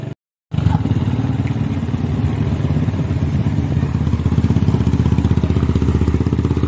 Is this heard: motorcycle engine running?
yes